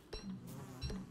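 Steady insect-like buzzing of bees in the video game Don't Starve, droning continuously with a couple of brief louder swells, close and with no voices.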